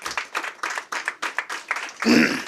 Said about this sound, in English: that's the applause for the B event Right, for coming in the room